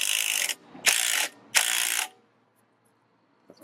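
A ratchet tightens T40 bolts on a BMW R1200 GS Adventure OEM rack, giving three quick, loud bursts of clicking close up, then silence and a faint click at the end.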